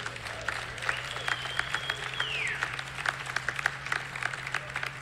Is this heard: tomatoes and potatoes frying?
no